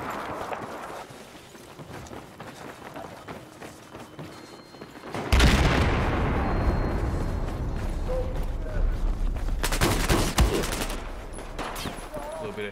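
Hip-fire gunfire in the Battlefield 4 multiplayer shooter: loud rapid bursts break in suddenly after a quieter stretch, with a further sharp burst later, amid game noise and voices.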